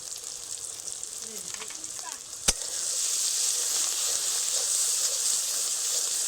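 Ground spices, Kashmiri chili powder, cumin and coriander, fry and get stirred in a pan with a steady close hiss that grows louder and fuller partway through after a single sharp clink, with no talk.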